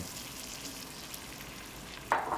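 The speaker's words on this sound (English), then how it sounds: "you can see that sort of frying in there" A steady, faint sizzle of pumpkin frying in spiced butter in a pan, with a brighter burst of crackling near the end as it is stirred.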